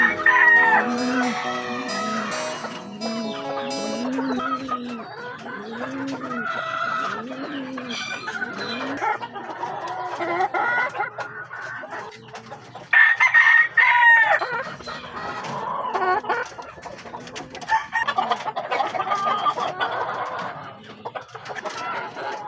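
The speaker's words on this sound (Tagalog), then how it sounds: "Chicken." Sheeter bloodline chickens cluck in busy, close rhythmic calls while a rooster crows loudly several times over the flock.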